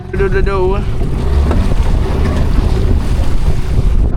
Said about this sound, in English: Super windy out there, so literally white capping past that point.